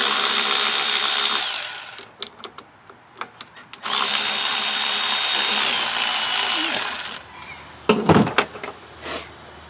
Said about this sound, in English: a 10 millimeter to take off these nuts.